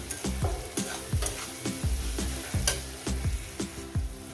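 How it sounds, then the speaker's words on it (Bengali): Prawns fry with onions in a hot pan, a steady close sizzle broken by repeated rhythmic scrapes and knocks of stirring, roughly two each second, with no talking. "এটা আমি দু থেকে তিন মিনিট একটু ভেজে নেব"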